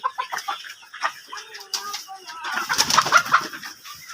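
Laying Faomi hens clucking and chattering in short bursts, with several birds calling at once and growing busier toward the end.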